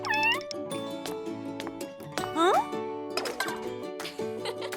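A white cat in a cartoon gives several bright rising meows, one near the start and one in the middle, over background music and cartoon sound effects, with voices talking at points.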